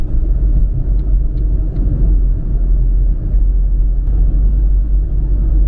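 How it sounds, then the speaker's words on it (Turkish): A car passes along a city road in Qatar, its engine and tyre rumble loud and steady throughout, close to the listener with no talk over it. "Araç mı geçiyor? Evet, araç geçiyor bundan."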